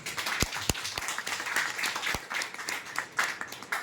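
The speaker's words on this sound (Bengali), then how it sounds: "আমাদের সাংবাদিকদের পক্ষ থেকে একটা জোর হাততালি" A crowd claps and applauds continuously, with a few sharp, louder claps standing out near the start and middle, at moderate distance.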